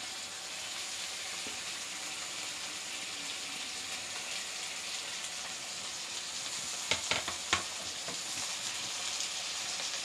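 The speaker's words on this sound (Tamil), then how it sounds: "இதை நல்லா ஃப்ரை பண்ணிக்கோங்க தக்காளியும் உள்ளக்கிழங்கும் நல்லா வதங்கிடுச்சு" Diced tomato and potato fry in an oil-filled pan for a chenna masala, giving a steady close sizzle with a few sharp utensil taps near the end. No talking.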